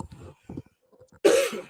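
Someone speaks quietly in short fragments, commentating a high school football game, then gives one sharp, loud cough close to the microphone.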